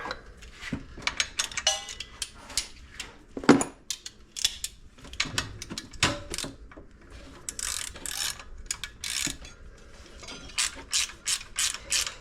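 A ratchet wrench tightens a bolt on an alternator pulley assembly of a 1986 Z car. It gives close, rapid clicking pawl bursts in uneven strokes with short pauses between them. No one speaks.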